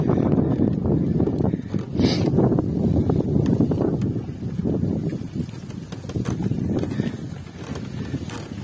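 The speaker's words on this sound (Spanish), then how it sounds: "hay bastante viento encima hoy" Strong wind buffeting the microphone while cycling across sand, a continuous loud low roar that gusts and dips with no other clear sounds.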